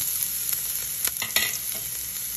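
Garlic and onion frying in a little oil in a pan, a close, steady sizzle with a few sharp stirring scrapes and taps.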